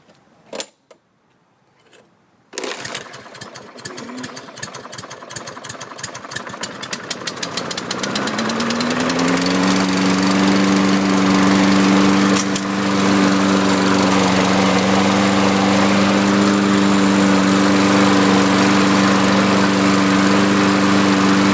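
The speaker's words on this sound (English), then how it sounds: "So let me start this Lawn-Boy" A Lawn-Boy 6.5 lawn mower is pulled over after a few quiet clicks, catches, and revs up into a loud, steady running drone with a strong, even hum, close by throughout.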